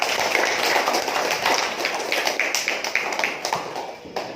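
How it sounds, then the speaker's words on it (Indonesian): A classroom group claps for group 4, a steady patter of many hands that is moderately loud and gradually thins toward the end. "kita beri aplaus untuk kelompok 4"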